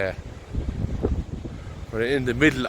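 Storm Ashley's blustery wind buffets the microphone outdoors at a cattle shed in low rumbling gusts, with a voice talking through the second half.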